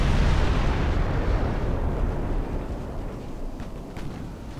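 Warship ammunition flash fire explosion in the naval battle game Ultimate Admiral Dreadnoughts: a heavy, deep rumbling blast that stays loud and slowly fades, with a few faint pops near the end.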